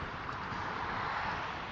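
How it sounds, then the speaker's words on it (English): Steady wind blowing across an open city park, a constant broadband rush with no breaks, heard close and fairly loud like gusts buffeting the microphone while riding an electric fat-tire bike. "It is windy. The wind's starting to pick up."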